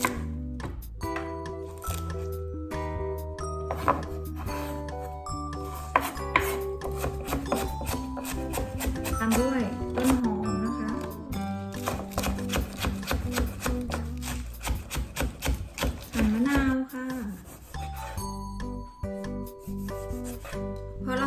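Close knife chopping coriander on a board, bursts of fast taps and scraping rubs spread over about twenty seconds, with no speech.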